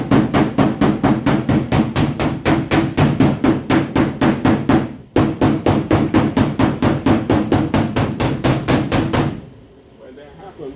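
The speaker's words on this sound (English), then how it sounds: "I use the shrinking hammer" A shrinking hammer strikes a Dodge Ram quarter panel in rapid, steady metallic taps, loud and close, pausing briefly midway before the blows resume and then stop, leaving faint room noise.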